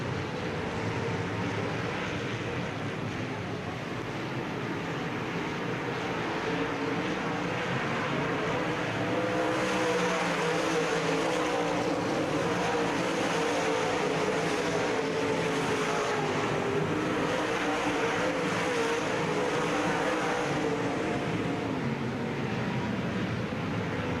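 A field of UMP race cars roars around Davenport Speedway during the 1997 Summer Nationals, a steady, dense engine drone heard from a distance with no break and no voices over it.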